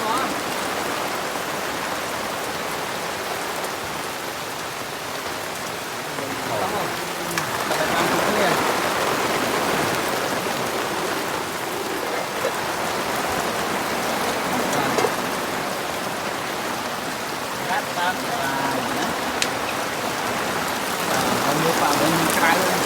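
Heavy rain pours steadily on a forest in Preah Vihear province, Cambodia, a loud, dense, unbroken hiss that swells slightly at times and drums on nearby surfaces.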